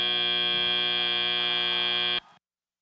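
A loud, steady electronic buzzer sounds at the end of a FIRST Robotics Competition match in a Texas arena, holding a harsh droning tone for about two seconds before cutting off abruptly.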